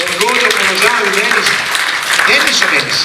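Audience applause at an evening awards event in Taglio di Po, a sustained wash of clapping for a few seconds while a presenter's voice carries over it.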